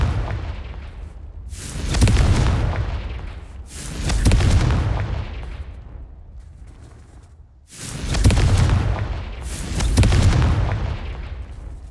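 Deep booming blasts from the Confringo blasting spell, four heavy explosions, each swelling and rolling away slowly, loud and close, with no voices.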